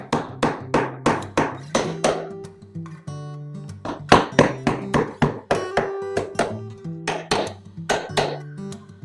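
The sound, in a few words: hammering a beehive outer cover back together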